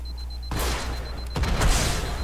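Two heavy shotgun blasts in the video game Halo Online, both loud and close, separated by under a second, each with a booming tail.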